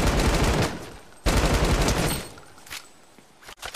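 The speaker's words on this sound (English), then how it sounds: "I do hear shooting" Loud bursts of automatic gunfire in Fortnite, two long close volleys followed by fainter scattered shots as the firing trails off.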